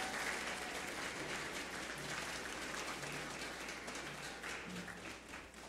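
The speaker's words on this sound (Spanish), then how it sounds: "Fuerte el aplauso para la Caja de Ahorros." A crowd at a regional oratory contest final in Los Santos, Panama, gives steady, dense applause for a sponsor, an even wash of clapping that holds throughout at moderate level.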